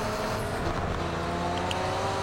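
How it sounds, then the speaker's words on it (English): Nissan Skyline engine in a racing video game, running rough as if a damaged gearbox, on a wet track: a steady, continuous mid-level drone with no voices. "The Skyline sounds terrible. It sounds like it's got gearbox problems or something."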